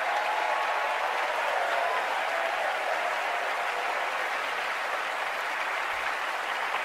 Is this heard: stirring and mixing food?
no